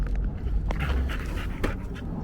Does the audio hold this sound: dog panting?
yes